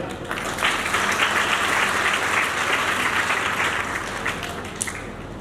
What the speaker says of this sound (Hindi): इसके लिए भी पूरे सागर की टीम के लिए तालियां।